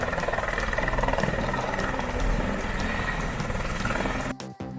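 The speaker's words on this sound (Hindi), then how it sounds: "ये देखो बच्चों, ये है हेलीकॉप्टर।" A helicopter drones steadily with a thick, pulsing rotor throb and engine whine, loud and close for several seconds before cutting off abruptly near the end.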